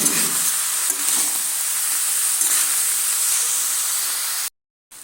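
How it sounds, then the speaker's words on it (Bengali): Cabbage frying in a pan over low heat makes a continuous soft hiss and sizzle with faint stirring scrapes, then cuts to brief silence near the end. "একদম হালকা আঁচে দিয়ে একটু সময় নিয়ে এইভাবে নেড়ে চেড়ে ভেজে নিতে হবে"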